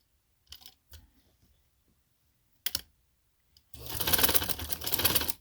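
A sewing machine stitches lace onto a shawl collar, starting with a few isolated clicks and a brief whir, then settling into a steady, close, rapid mechanical run at the end.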